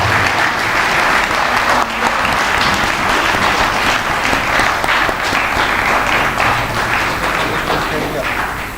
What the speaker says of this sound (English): Can we have the big round of applause?